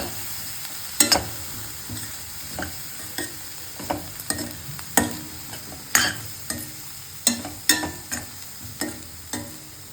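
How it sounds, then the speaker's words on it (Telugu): Cabbage and grated coconut fry in a pan with chili powder added, a soft steady sizzle running underneath while a spoon scrapes and knocks against the pan in irregular, close clinks, with no talking. "ఇది ఇప్పుడు వేగనివ్వాలి."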